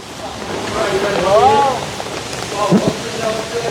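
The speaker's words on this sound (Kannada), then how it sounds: "ಮೇಲಿಂದ ನೀರು ಬೀಳ್ತೈತೆ ಮಳೆ ಥರ" Water dripping and splashing down like rain at Varichora falls near a cave makes a steady, close, rushing patter, with a brief voice rising over it midway.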